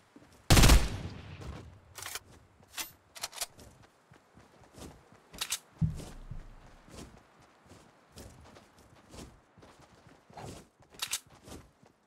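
Fortnite gunfire heard as scattered sharp shots, one loud close blast followed by a series of fainter, irregularly spaced cracks and thuds over about twelve seconds.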